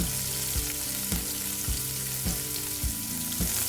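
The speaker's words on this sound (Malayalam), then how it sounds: "2 പച്ചമുളക്, പിന്നെ 1 കഷ്ണം ഇഞ്ചി ചെറുതായിട്ട് കട്ട് ചെയ്തത്" Green chilies and chopped ginger fry in hot oil for poha upma, a steady sizzle broken by regular stirring knocks about every half second, close and without talk.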